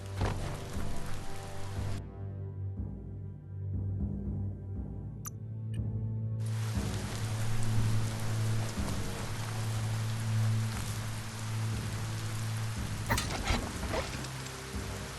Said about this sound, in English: Hope you enjoy the rain.